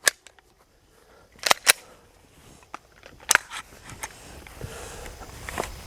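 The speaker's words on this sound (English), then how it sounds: "I got 5 rounds of ammunition in it, and we're gonna go ahead and shoot some steel." Glock 17 Gen 3 pistol firing five rounds at steel targets outdoors: several sharp, loud cracks spaced irregularly across a few seconds, separated by quieter gaps with faint handling noise.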